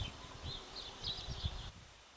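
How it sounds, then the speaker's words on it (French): Bees buzz faintly near a tree, a thin wavering drone that rises and fades in short swells for a couple of seconds, with soft rustling beneath. "c'est surtout quand ça bourdonne."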